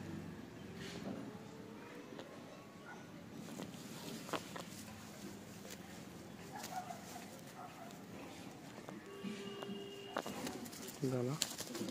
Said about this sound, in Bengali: এক জোড়া পায়রা ধরে দেখাচ্ছি